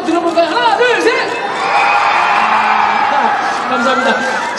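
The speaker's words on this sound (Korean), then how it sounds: "함성 한 번, 소리 한번 들어볼까요? 하나, 둘, 셋!" Fans cheer, whoop and shout in a big, high-pitched roar at an outdoor live broadcast show at Lotte World, heard over a few seconds with scattered yells.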